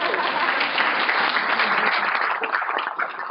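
A room of people applauding after a university announcement about green hydrogen projects in Namibia, dense continuous clapping that stays loud for the whole stretch with no voices over it.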